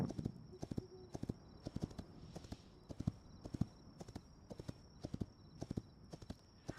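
Horse hooves clip-clop in steady, evenly spaced pairs of hoofbeats in the video game Hytale, faint and close with nothing else over them.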